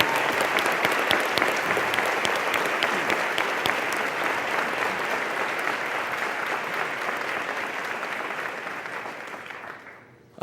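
An audience at a ceremony applauds an award-winning ROTC color guard, a dense, even round of clapping that holds steady and then dies away near the end.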